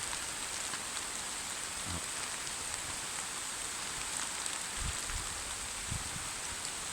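Light rain falls steadily on foliage in a forest garden, a soft continuous hiss of drops with a few faint low thumps, quiet and even throughout, with no voices.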